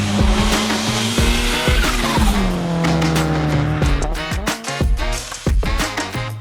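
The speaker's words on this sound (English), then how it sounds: "With a naturally aspirated boxer engine and basically no exhaust, this thing sounds like the biggest knockoff WRX" A Subaru XT with a loud, raw naturally aspirated boxer engine and basically no exhaust revs and drops with sharp bursts and pops, tires chirping as the car drives close by, no voices heard.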